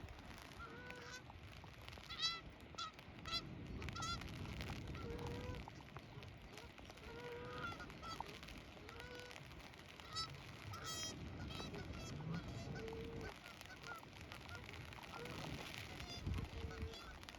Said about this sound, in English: I've got geese for company.